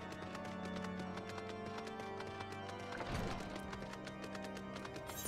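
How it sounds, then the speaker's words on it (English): A horse's hooves clip-clop steadily up stone stairs in Final Fantasy XIV, a continuous rhythmic patter over a background game music bed, close and moderately loud with no voices. "Just riding our horse up the stairways."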